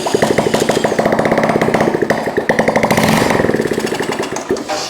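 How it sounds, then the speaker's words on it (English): A Honda ST70 motorcycle engine fires up on starting fluid and keeps running with a rapid, uneven putter, loud and close, surging and dipping in rhythm with no talking over it. "Yeah, that sounds like it's running."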